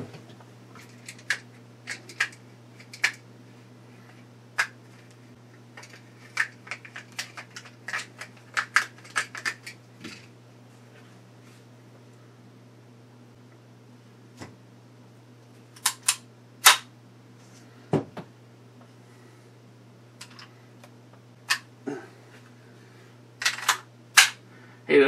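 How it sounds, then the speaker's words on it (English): Rifle magazines are loaded by hand, producing sharp, irregular metallic clicks and snaps scattered over about twenty-five seconds against a steady low electrical hum, with no one talking. "here, I'll show you how to load these mags."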